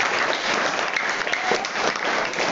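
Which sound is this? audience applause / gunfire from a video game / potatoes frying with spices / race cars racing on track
audience applause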